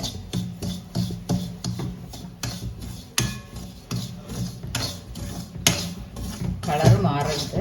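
Semolina roasting in ghee for kesari, stirred in a pan with a utensil, gives repeated scraping and rasping strokes in a steady rhythm with light clinks, close up, under occasional quiet talk.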